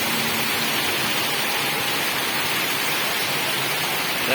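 Heavy monsoon downpour during the Ashar rainy season in northern Bangladesh, a dense, steady hiss of rain filling the whole clip at constant loudness, close and enveloping, with no voices.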